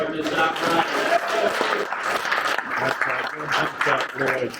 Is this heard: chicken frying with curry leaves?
no